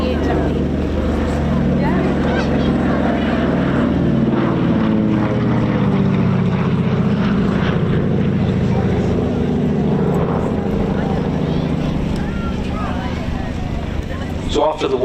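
A vintage propeller warbird flies past at the Old Buckenham airshow, its loud droning engine rising and falling as it crosses, with a commentator talking over the pass.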